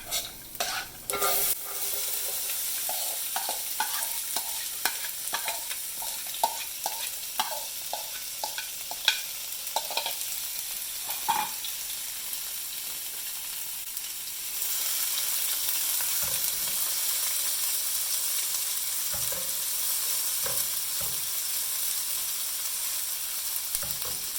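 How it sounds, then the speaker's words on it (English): Garlic and onion frying in a pan for a cauliflower gobi bhaji, with sharp utensil scrapes and stirring clatter over a sizzle that swells into a steady hiss in the second half, close and fairly quiet. "you can put in the garlic and the onion"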